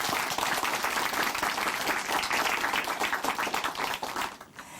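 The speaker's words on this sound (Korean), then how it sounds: "다시 한번 박수 보내드릴게요." An audience at a Korean Christian testimony broadcast gives a warm round of applause, dense and steady throughout, fading slightly at the very end.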